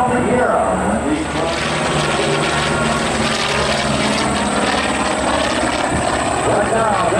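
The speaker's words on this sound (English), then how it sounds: "That's the FG1D going by right now." A Goodyear FG1D Corsair flies by at the 2003 Willow Grove airshow, its piston engine and propeller making a loud, sustained roaring drone while an announcer talks over it.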